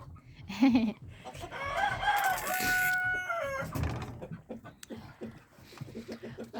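Backyard chickens are fed by hand and cluck loudly and close. A rooster crows partway through and scattered pecking and shuffling follow, with no talk.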